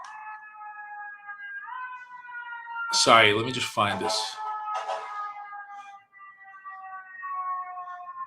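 An emergency vehicle siren passes outside, a continuous wailing tone of moderate loudness that runs through the whole stretch while someone talks briefly over it.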